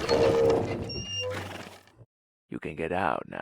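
A horse in the Servant of the Lake video game lets out a loud, close whinny that rises and then fades out, followed by a person speaking.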